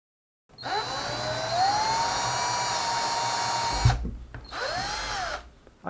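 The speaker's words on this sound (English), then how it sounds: "we're going to get the drill out." A power drill drilling into a wall whines steadily at high pitch for several seconds, stops briefly after a thump, then runs again in a shorter burst.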